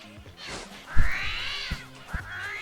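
Armadillo calls in the GONE Fishing video game, a series of shrill, rising squeals and whines with soft thumps between them, fairly close over a quiet background.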